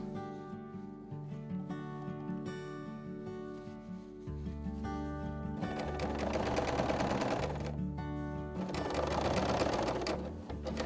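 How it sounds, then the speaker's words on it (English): A BERNINA overlocker runs in steady bursts while gathering fabric with its gathering foot, a close, loud mechanical whir and clatter of rapid stitching that speeds up and eases off across the stretch. "While sewing, guide both fabrics as straight as possible."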